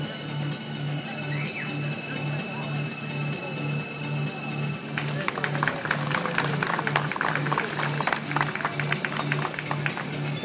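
An audience at an engagement ring show in Ottawa breaks into applause midway, with dense, crackling clapping that replaces a quieter stretch with a low steady hum.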